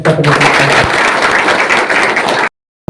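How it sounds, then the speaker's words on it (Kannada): Audience applause for a guest at a newspaper's silver jubilee and reporters' gathering, a loud burst of many hands clapping together that stops abruptly into silence. "ಎಲ್ಲರೂ ಅವ್ರಿಗೆ ಚಪ್ಪಾಳೆ"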